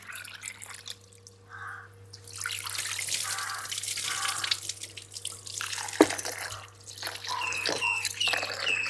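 Soaked rice rinsed by hand in water: steady close sloshing and swishing, with drips and trickles and a sharp knock partway through.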